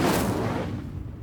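A fire spell cast in Hogwarts Legacy, a loud burst of blazing flame that roars at once and slowly fades over about a second.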